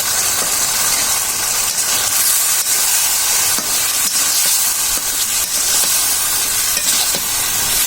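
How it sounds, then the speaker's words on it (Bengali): Raw green banana and potato pieces fry in a hot pan, giving a steady, close sizzle and hiss with scattered light clicks and scrapes of stirring throughout, and no voices. "এখন আমরা দিয়ে দিব কাঁচা কলা আর হচ্ছে আলু, এগুলো আগে দিয়ে দিচ্ছি। এগুলো একটু কষিয়ে নিব।"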